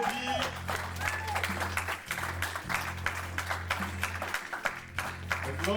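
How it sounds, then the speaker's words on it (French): Wedding guests applaud the couple with lively clapping, heard over a steady low hum from the venue's sound system and some background murmuring. "On applaudit."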